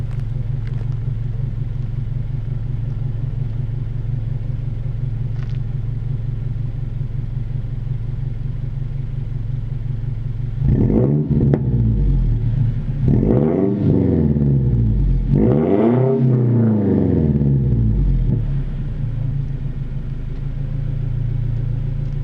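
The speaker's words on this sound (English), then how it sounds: "we'll get some revs here real quick" A car engine idles with a steady low rumble, then is revved three times in quick succession, each rev rising sharply and falling back, loud and close with no talking.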